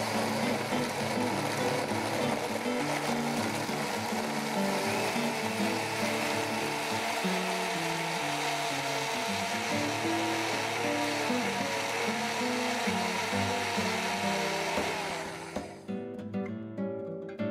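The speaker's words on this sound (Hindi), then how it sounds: "थोड़े से आइस क्यूब्स, इसे हम अच्छे से ब्लेंड कर लेंगे।" A blender whirs through mango smoothie with ice cubes, a loud continuous grinding roar with rattling, shifting pitch throughout that cuts off abruptly near the end, leaving brief fading clatter.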